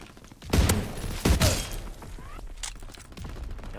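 Double-barrel shotgun blasts in Call of Duty: WWII, two heavy close booms about a second apart followed by mechanical reloading clatter and quieter game ambience.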